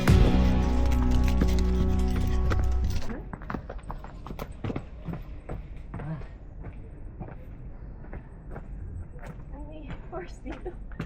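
Horse hooves clip-clop on a trail at Camp John Hay in Baguio City, with a steady run of sharp knocks that continues after a loud opening stretch, mixed with wind and voices talking nearby.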